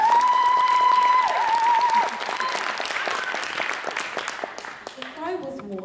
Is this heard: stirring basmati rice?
no